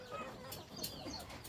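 Chickens on a small village poultry farm with about 150 birds, clucking and calling continuously at close range over a busy farmyard background, with no talk.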